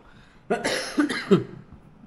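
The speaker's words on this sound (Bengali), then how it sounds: "এখনও কাশতেছি" A single person coughs a few times in quick succession, close and fairly loud, in a brief harsh burst against a quiet background.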